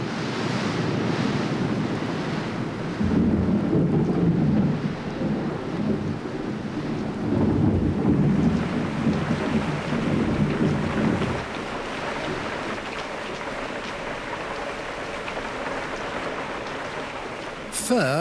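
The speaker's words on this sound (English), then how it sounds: "Cold, windy, rainy weather can make the rabbit's life a misery." Stormy wind and surf on an exposed coast, with rain and possible thunder rumbling as a loud, continuous roar; heavier low-frequency gusts surge in the first half, then the noise settles to a steadier hiss.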